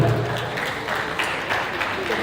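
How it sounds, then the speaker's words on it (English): Audience members at a Lagos commemorative event clap in a brief, even burst, moderately loud, with a voice faintly audible underneath. "Let's clap, let's clap, let's clap."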